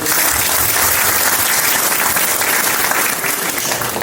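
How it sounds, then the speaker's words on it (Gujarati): An audience at a CPR training session for a nursing association in Rajkot bursts into loud, sustained clapping to welcome a guest, with a dense, even roar of many hands. "એકવાર જોરથી તાળી પાડીને એનું સ્વાગત કરો"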